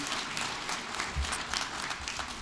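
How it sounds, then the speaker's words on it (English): A crowd applauds at a National Honors Society induction ceremony, producing dense, sustained clapping that fills the space evenly and stays loud throughout, with no talking on top. "We're just going to keep clapping all night."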